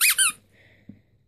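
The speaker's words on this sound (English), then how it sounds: "It has a squeak." A Sophie the giraffe rubber teething toy gives two quick high squeaks in a row, then a few faint soft handling bumps.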